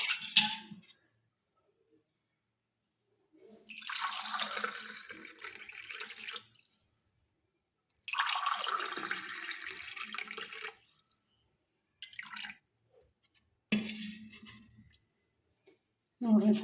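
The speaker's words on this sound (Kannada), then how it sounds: "ಈಗ ಮಜ್ಜಿಗೆ, ಮಸಾಲೆ ಮಜ್ಜಿಗೆ ಗ್ಲಾಸಿಗೆ ಹಾಕ್ತೀನಿ ನೋಡ್ರಿ." Masala buttermilk being poured into a glass: two separate pours of liquid, each a few seconds long, close and moderately loud, with short quiet gaps and a few brief clinks around them.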